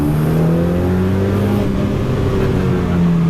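A Dallara Stradale supercar engine revs steadily toward the red zone and rev limiter, a loud, sustained, rising mechanical drone heard close up with no talk over it.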